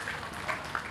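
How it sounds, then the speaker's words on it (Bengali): Audience clapping at a shop opening ceremony for a sales centre in Basila, Mohammadpur, Dhaka: a steady, dense patter of many hands for about a second, with a few louder claps standing out. "জোরে করতালি হয়ে যাচ্ছে আপনি।"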